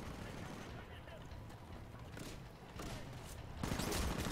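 Gunfire aimed at the player in the Titanfall closed beta, a dense burst of rapid shots running throughout and growing heavier toward the end, close and loud.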